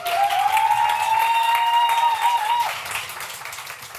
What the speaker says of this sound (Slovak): Dáme im potlesk znova.